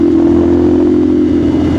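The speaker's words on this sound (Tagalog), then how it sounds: "Yan ang tunog ng exhaust natin mga pre." Motorcycle exhaust droning steadily while riding, a loud continuous low engine note with wind rush and light clatter, no voices.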